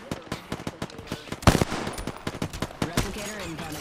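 Rapid automatic gunfire in a sci-fi battle royale shooter, close and crackling bursts with one heavy impact in the middle, mixed with other game effects and a faint voice underneath.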